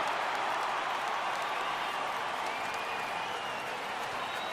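A stadium crowd in an MLB baseball video game, Braves versus Phillies, rising into a steady, continuous roar of cheering and clapping that fills the whole moment with no break.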